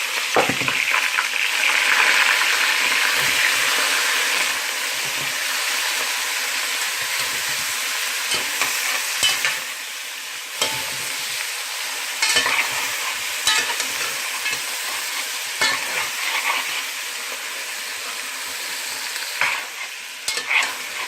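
Onion frying in a pan while being stirred, a loud continuous sizzle with repeated scraping strokes of a utensil close by, no voices.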